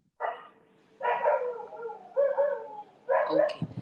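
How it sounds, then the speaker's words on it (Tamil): Dog barking in the background, a series of four short barking bursts with a slightly howling, whimpering edge, somewhat distant and fairly faint, with no speech over it. "பின்னாடி ஒரு நாய் கொலைக்குதே"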